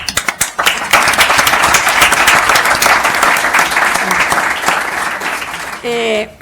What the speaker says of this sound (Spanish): vamos a darte un aplauso primero